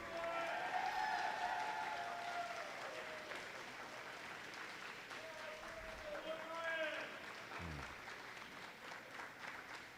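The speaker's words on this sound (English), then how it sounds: "Wonderful applause." A graduation ceremony audience applauds steadily for a graduate crossing the stage, a broad continuous wash of clapping with some voices and cheering mixed in throughout.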